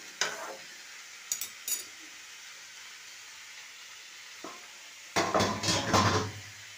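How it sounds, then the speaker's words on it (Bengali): Quiet spells broken by a few short clinks, then a burst of loud sizzling as vegetable stalks hit a hot pan, with stirring scrapes. "এবার এগুলো একটুখানি ভাজতে হবে, একটুখানি ভাজা ভাজা হোক"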